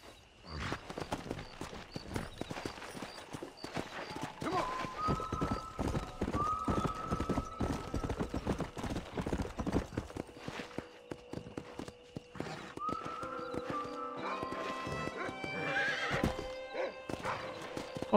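Horse in the video game Red Dead Redemption trotting with rhythmic clip-clop hooves and letting out several shrill whinnies, close and fairly quiet, with the hoofbeats continuing throughout.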